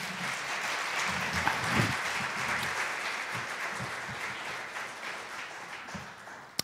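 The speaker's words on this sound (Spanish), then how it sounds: "Dale un aplauso al Señor." A church congregation applauds together in sustained, even clapping that fills the room at moderate loudness, with a few scattered voices beneath.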